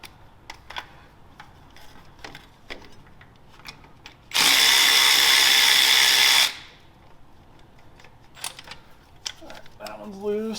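A power tool, likely an impact driver or drill, runs in one steady two-second burst removing 10 mm bolts beside the starter of a Chevrolet Silverado/GMC Sierra 4.3 V6 truck, with light clicks and handling noises before and after.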